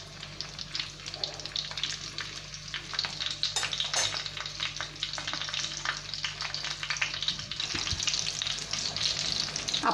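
Stuffed green chillies filled with fresh coconut sizzle and fry steadily in a pan, a continuous crackling hiss with occasional louder pops and faint clinks, close and alone without talk.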